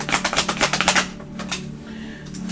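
Tarot cards shuffled in quick succession, a rapid riffle of crisp flicks for about a second, then softer, scattered card sounds fading out, close and fairly loud.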